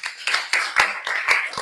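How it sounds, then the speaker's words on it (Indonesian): A classroom of students claps for a classmate in a short burst of quick, uneven applause, close and fairly loud, lasting under two seconds. "Betul, tepuk tangan dulu untuk Rofi."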